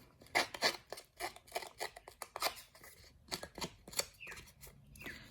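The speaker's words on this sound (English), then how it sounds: "with an old pair of scissors, if you've got an older pair of scissors that you don't mind, we're going to just distress those edges" An old pair of scissors snips and scrapes along the edges of paper greeting card stock to distress them, a close, irregular run of crisp cuts and rasping strokes with short pauses between, no voices.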